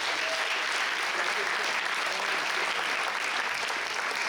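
Sustained crowd applause for a band at a battle of the bands, a thick unbroken wash of clapping from a large audience, evenly loud throughout.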